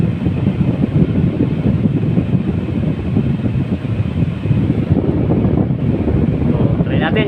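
An air conditioner's fan running hard gives a loud, steady, close-up rushing whoosh that holds constant throughout with no voices.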